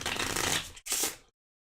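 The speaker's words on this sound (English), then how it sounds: "I'm going to shuffle this for shenanigans" A loot card deck from the Too Many Bones board game is shuffled up close, two quick riffling bursts with a brief gap between them, then silence.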